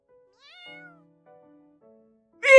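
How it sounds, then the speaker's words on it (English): A cat meows inside the horror video game Online Obsession: soft synthetic tones lead into a sudden, loud, close meow at the very end, with no talking. "Meow! Was that you?"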